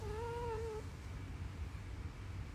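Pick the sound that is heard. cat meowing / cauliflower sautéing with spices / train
cat meowing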